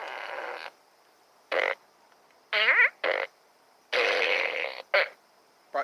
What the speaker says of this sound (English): So I guess today we could start with the fart gun.